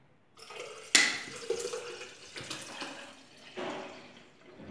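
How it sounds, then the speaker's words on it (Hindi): Water splashes and trickles in short bursts into a glass for homemade lemon soda, starting with a sharp splash and then uneven pouring sounds, close by and with no talking. "अब हम इसमें दोबारा पानी डाल रहे हैं।"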